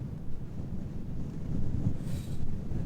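Steady outdoor wind buffeting a camera tripod and microphone, a low rumbling roar that swells in gusts, with no talking.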